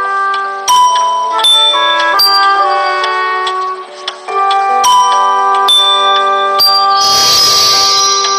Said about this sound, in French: tu dois sonner les cloches et jouer la mélodie que les lys aiment tant.